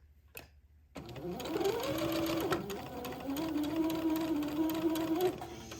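A sewing machine hems a fabric casing shut, whirring steadily and close after a short quiet start, its motor running continuously at a fairly even pace until the end.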